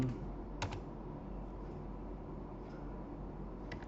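Quiet keystrokes on a computer keyboard, a few soft clicks spread over a few seconds against a low hum, with no talk.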